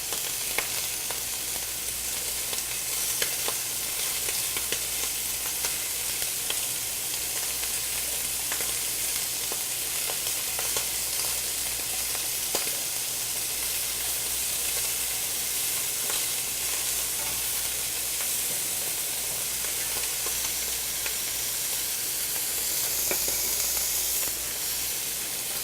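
Shrimp fry in a pan with a garlic butter sauce, a steady close sizzle and hiss with faint clinks and stirring, continuing without talk.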